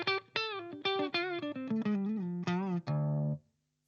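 An electric guitar played through a Bugera T50 Infinium tube amp head at minimum gain gives a series of clean, quick plucked notes and short phrases. The last note rings on briefly before abrupt silence.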